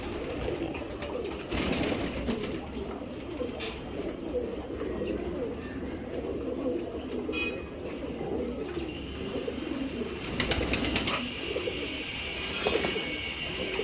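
Imported foreign-bred racing pigeons coo steadily in a loft, a dense layered murmur of many birds running throughout, with a few sharper noises and flutters over the top.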